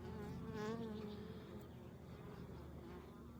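Honey bees buzz steadily around a backyard beehive, a dense continuous droning hum of many insects close by, swelling slightly early on and then holding level throughout.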